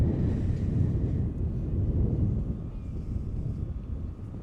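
Strong wind gusts buffet the microphone outdoors at a junior ultimate frisbee championship field, producing a steady low rumble that swells and eases without pause.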